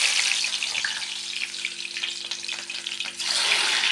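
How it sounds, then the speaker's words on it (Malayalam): Chopped shallots crackle and sizzle steadily in hot oil, a dense, close hiss that dips briefly near the end before surging back loud, with no voices. "കുറച്ച് കൊച്ചുള്ളി അരിഞ്ഞത് അത് എണ്ണയിലോട്ടിട്ട്"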